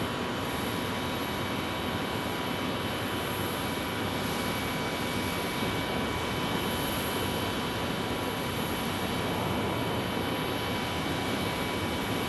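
An Airbus A321neo jet airplane at Phoenix Sky Harbor gives off a steady, broad roar that holds at an even level for the whole stretch, with no talk over it.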